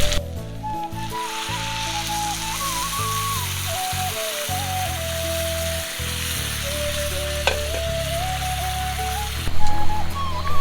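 Water poured into a hot pan of dal bursts into a loud, continuous close sizzle and bubbling hiss, with a steady tone running underneath and a sharper surge near the end.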